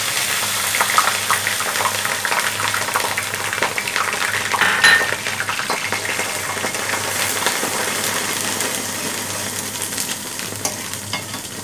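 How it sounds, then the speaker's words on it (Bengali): Garlic and ginger paste fries in hot oil for a sweet and sour olive pickle. A loud, steady sizzle runs under constant scraping and stirring, with occasional utensil clinks. "তেলটা গরম হয়ে গেছে, এর ভিতরে রসুন আর আদা পেস্তা দিয়ে দিব।"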